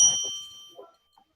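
A single bell rings out, its bright metallic tone hanging and slowly fading, with brief muffled sounds near the start and a soft tap near the end.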